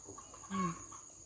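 A hen clucks once, briefly and fairly faintly, behind a rural house in Isan, Thailand, over steady insect-like background hiss.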